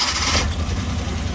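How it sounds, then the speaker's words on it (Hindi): A car with a check-engine fault and a suspected misfire is started with its self-starter: a brief burst of cranking, then a steady, fairly loud idle running on alone. "गाड़ी को मैंने सेल्फ लगा दिया है, गाड़ी स्टार्ट हो चुकी है।"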